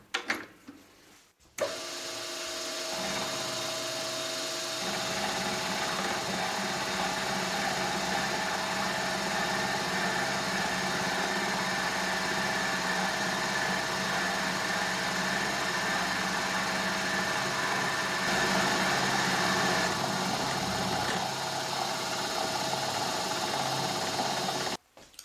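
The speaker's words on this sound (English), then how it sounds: "Using a 40 millimeter shell end mill at" A milling machine runs a 40 mm shell end mill at 100 RPM to shape a steel part for a shop-made micrometer. After a few brief knocks comes a steady, loud mechanical hum and grinding whir that holds for over twenty seconds.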